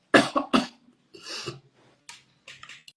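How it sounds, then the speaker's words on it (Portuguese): A person clears their throat a few times in quick succession, with short raspy bursts close up, followed by a couple of softer, fainter rasps. "Tô com um pigarrozinho aqui."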